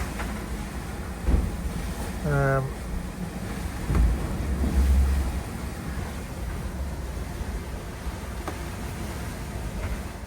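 Wind and rushing water surge around a sailboat as it surfs ocean waves at about 8 knots on an Atlantic crossing, with swells rising and falling and a brief creak.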